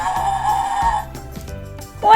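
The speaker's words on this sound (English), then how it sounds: "Let's listen to the sound of the goat." A goat bleating, loud and close, a wavering, nasal cry followed by shorter bleats and ending on a sharp rising call.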